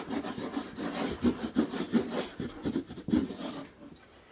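Moistened towel scrubbed hard over a vintage plaster wall finish, a steady run of close, rough rubbing strokes that pause briefly near the end.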